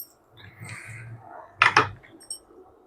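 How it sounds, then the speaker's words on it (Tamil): A pressure cooker lid is set on and closed in a home kitchen, a soft metallic shuffle followed by two sharp close clanks and a faint light clink at the end, close by with no talking. "மூடி போட்டுக்கலாம், குக்கர் மூடி."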